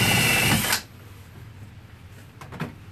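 A cordless drill whirring into wood for a DIY Christmas yard project, battery nearly dead, a loud motor run that cuts off after under a second, followed by quiet handling clicks.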